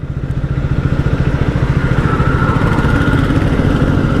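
A 2024 Triumph Speed T4 motorcycle rides in fourth gear at low road speed, its engine throbbing loud and close with a steady pulsing exhaust beat and wind rush.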